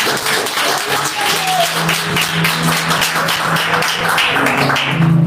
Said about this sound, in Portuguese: bater palma e aplaudir ao Senhor